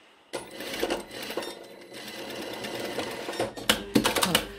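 Sewing machine joining a blouse shoulder seam with interfaced fabric, a steady whirring run of stitching near the microphone, ending in a few quick clicks and clatters as it stops.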